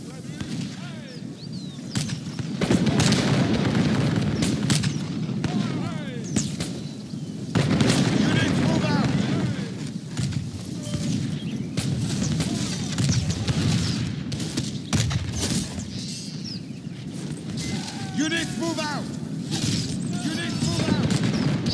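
Gunfire from rebels and handgunners during the 1510 siege of Genova in a battle video game: rolling, overlapping volleys and distant booms that swell and fade, with a narrator talking throughout.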